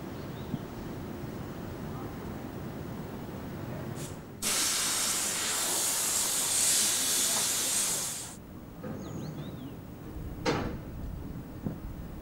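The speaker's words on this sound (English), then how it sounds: "Rolling stock is cleaned, the locomotive is fired up" Steam hissing from a locomotive being fired up on the Furka-Oberalp railway, a loud steady rush for several seconds over a low background rumble, with a few short bursts of hiss afterward.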